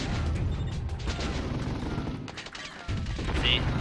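Tank cannons firing in the retro strategy game Warzone 2100, fully tracked tanks trading heavy booming shots in a continuous dense barrage of blasts and explosions, with a voice talking over it.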